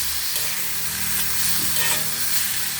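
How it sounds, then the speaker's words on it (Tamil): Onions and tomatoes sauté in a pan for greens thokku, giving a steady, close sizzle and frying hiss with faint stirring scrapes and no voices. "இப்போது இது நல்லா கொஞ்சம் வதங்கட்டும்."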